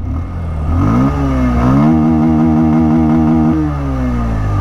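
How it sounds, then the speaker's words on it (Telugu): A 2024 Bajaj Pulsar 150 with a 149.5 cc air-cooled two-valve single-cylinder engine revs up close, its exhaust note rising and falling through a couple of throttle blips and then holding a throbbing, pulsing idle-to-mid rumble. "ఎగ్జాస్ట్ సౌండ్ విన్నారు కదా."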